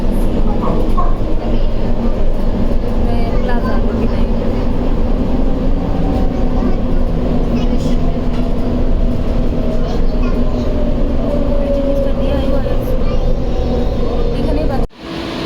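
A metro train in Kuala Lumpur rumbles steadily from inside the carriage, a loud continuous low roar with faint rattling and a rising whine, with a sharp knock near the end.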